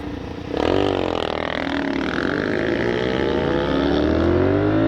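A GPR250 motorcycle engine roars up close as the bike pulls away, the pitch rising steadily through a sustained, loud acceleration with no talking.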